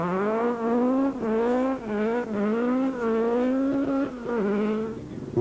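Sasol dual-fuel Volkswagen Golf rally car running hard on a special stage, its engine note droning loud and close with rising and falling revs through gear changes, the buzzing tone dipping briefly between pulls.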